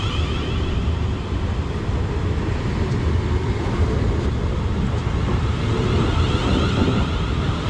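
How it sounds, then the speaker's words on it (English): A Class 450 electric multiple unit pulls out of Liss station with a continuous, loud low rumble and rolling drone that holds steady throughout, with no voices. "we are now at Liss station, and departing up now is 450069."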